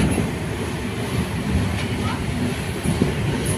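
A train rumbles steadily on the tracks, a loud low continuous rolling sound as it pulls away from Dakshineswar station.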